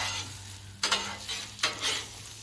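Omelets sizzle on a Blackstone flat-top griddle, a steady frying hiss broken by two sharp bursts as they are turned or pressed, close and fairly loud with no talking.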